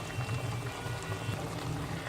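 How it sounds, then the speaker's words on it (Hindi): A glass of water is poured into a pot of beef and whole peeled tomatoes for a salted meat dish, giving a steady, low, continuous splashing and bubbling pour with no talk. "टमाटर के साथ मैं इसमें 1 गिलास पानी भी ऐड कर रही हूँ"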